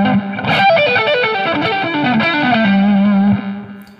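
Distorted electric guitar with effects plays a descending pentatonic line from an arrangement of Little Drummer Boy, sliding note to note before ringing out on a sustained low note, loud and close with no voices.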